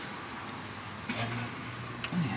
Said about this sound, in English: The birds are out in full effect. You hear them tweeting away.